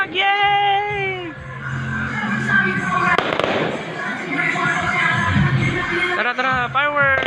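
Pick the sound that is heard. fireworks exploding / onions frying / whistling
fireworks exploding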